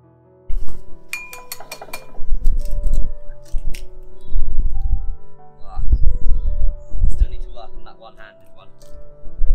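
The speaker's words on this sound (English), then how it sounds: "Crack your eggs into a bowl." Eggs cracked into a bowl in a kitchen, with sharp clinks and taps of shell on the rim followed by handling noises, loud and close, over a steady background hum.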